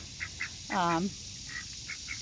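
A pet duck gives one loud, drawn-out honking quack close by, with a few faint quacks or calls in the background before and after.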